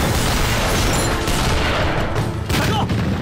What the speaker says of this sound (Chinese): 给我接着轰！